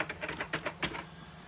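Keys on a Commodore 64 keyboard clack in an irregular burst of about a dozen sharp, close taps, moderately loud, with no talking.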